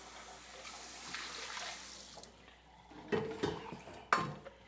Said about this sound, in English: I put the strainer inside a bowl and I just pour cold water in it